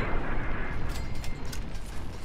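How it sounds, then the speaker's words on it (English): Dense, continuous rumble of booming blasts with sharper cracks layered on top, loud and close, like heavy cannon fire in a battle, from the game Fallout 3. "Explosions!"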